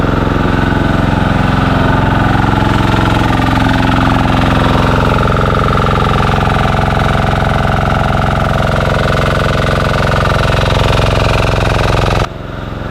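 Motorcycle trike engine idling close by in the Philippines, a loud, steady, even rumble that runs without a break before dropping off abruptly near the end.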